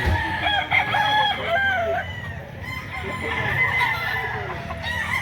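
Several bull stag gamecocks crow and cluck at a roadside market in Lipa, Batangas, overlapping calls close by with a busy background.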